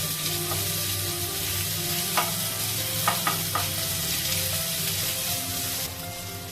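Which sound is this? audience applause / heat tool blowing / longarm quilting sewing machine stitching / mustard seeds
mustard seeds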